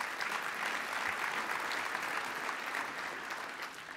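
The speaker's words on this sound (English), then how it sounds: "please applaud to that one" Audience at Oklahoma City's 2018 State of the City address breaks into applause, a fairly soft but continuous crowd clapping that tapers gently toward the close.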